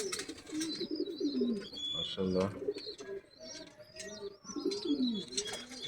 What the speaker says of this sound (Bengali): আমার এখানে নতুন মেহমান এসেছে, এই যে ঘুঘু এসেছে।